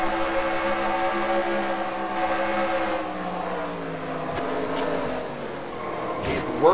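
A video game stock car race at Auto Club: the engine roars with shifting pitch, tires squeal, then a sudden sharp crash near the end cuts through the engine noise.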